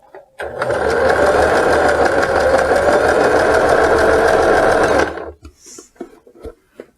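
A sewing machine stitches apron fabric in a rapid, even mechanical whir lasting about four and a half seconds, close and clear, then stops and leaves faint handling sounds.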